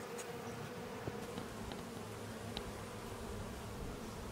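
Bees drone steadily from a nest lodged in the walls of a ruined factory building in Spain, a continuous even buzz with the occasional insect flying close past.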